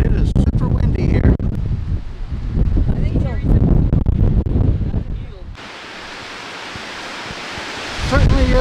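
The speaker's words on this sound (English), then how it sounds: "but it is super windy here" Strong wind gusting among rock formations near Creel, Mexico, a loud steady roar buffeting the microphone, with speech over the first half and a broad, continuous rush of air afterward.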